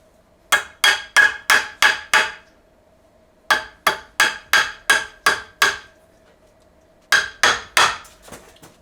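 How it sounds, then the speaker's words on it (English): A hammer knocks a replacement power pole spike into place on a fishing boat, three bursts of five or six sharp metallic taps each, evenly spaced and close, separated by short pauses. "I take the hammer and I just knock it on the bottom gently until we get up to the top"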